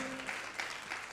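A church congregation claps together during a live Sunday worship service, a fairly quiet, steady wash of many hands with small swells.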